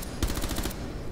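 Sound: gunfire shooting robots in Rainbow Six Siege video game

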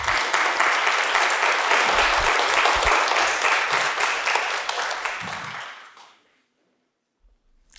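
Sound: congregation applause in church

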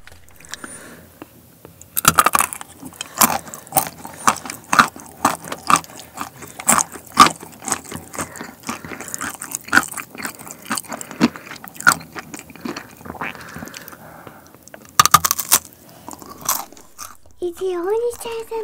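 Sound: biting and chewing homemade bark chocolate

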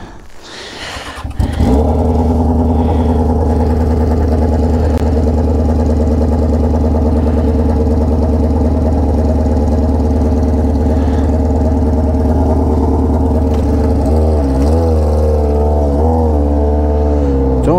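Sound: Yamaha XJ6 motorcycle with Atalla stainless steel exhaust revving

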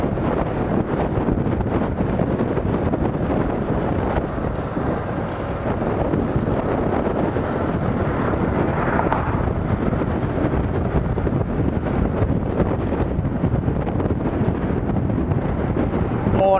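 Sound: strong coastal wind blowing on the microphone

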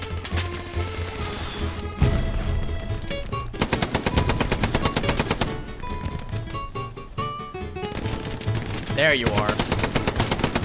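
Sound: machine gun fire in the video game Hell Let Loose

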